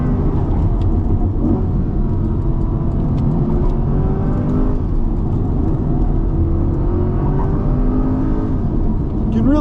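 Cabin sound from a Chevy Corvette E-Ray as it accelerates out of a corner: a loud, steady engine drone and tyre roar with rising whine as the car pulls hard, continuous and close.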